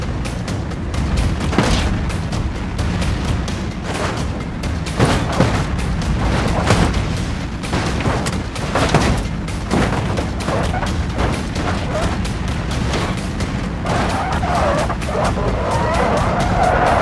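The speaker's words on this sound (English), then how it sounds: "Oh my God, Audi TT had a very bad landing" An Audi TT crashes on a steep downhill track in BeamNG Drive, with loud repeated impacts, crunching and scraping as the car slams down and tumbles. The bursts are close and fill the stretch with little pause.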